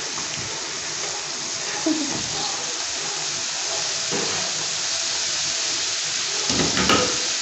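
Nigerian pepper mix for ewa agoyin sauce going into a pot of hot oil, a steady moderate sizzle throughout with faint clinks and occasional low handling sounds.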